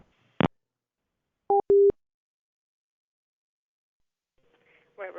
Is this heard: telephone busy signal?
yes